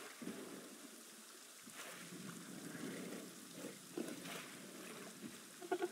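Rain falls in a swamp in the video game Prehistoric Kingdom, a faint, steady patter with soft splashes and a low rumble.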